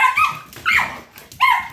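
A young puppy gives short, high yapping barks in three quick bursts, close and fairly loud with brief pauses between them.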